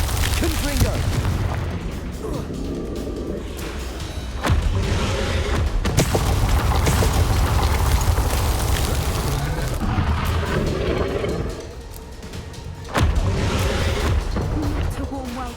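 Confringo fire spell explosions in Hogwarts Legacy, heavy booming blasts and crashes repeating through a dense, loud battle soundscape, with voices speaking over the action.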